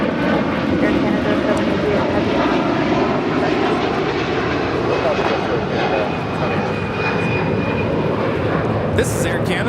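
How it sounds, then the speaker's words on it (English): An Air Canada Airbus A330-300 jet takes off from LAX, its engines giving a loud, steady broadband roar that holds throughout, with faint voices underneath. "This is Air Canada 788 departing to Toronto on the A330-300."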